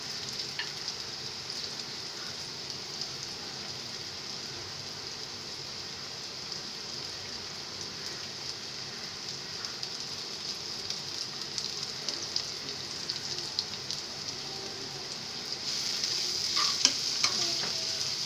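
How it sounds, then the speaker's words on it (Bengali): Pointed gourd seeds fry with onion in a pan, giving a steady close sizzle like light rain, with occasional stirring scrapes that grow a little louder toward the end. "পটলের বিচিগুলো একটু ঝুরা ঝুরা করে দিয়ে দিচ্ছি, যেন খুব তাড়াতাড়ি এই পেঁয়াজটা কমপ্লিটলি লালচা হতে হতে যেন একদম পটলের বিচিগুলো ভাজা হয়ে যায়"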